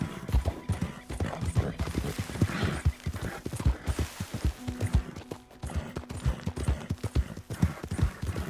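Horse hooves gallop in Red Dead Redemption 2, a steady fast clip-clop rhythm running throughout with a brief whinny, close and fairly loud, with game sounds around it.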